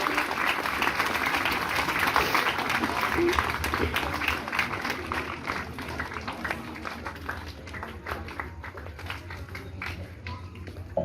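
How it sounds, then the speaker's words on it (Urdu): Applause from a seated congregation at a Mehfil-e-Milad gathering at an institute, a steady dense clapping that holds for about eleven seconds and slowly thins toward the end, with some murmuring in the room. "اپنی بھرپور تالیوں سے استقبال کیجیے شاز انسٹیٹیوٹ کی پرنسپل صاحبہ مس سمیرہ خسرو"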